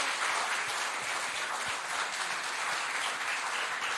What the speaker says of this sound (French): on peut les accompagner sous vos applaudissements, s'il vous plaît